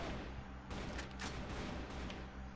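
Rapid gunfire bursts from the online shooter CrossFire, with sharp cracking shots in quick clusters over a steady background of game noise.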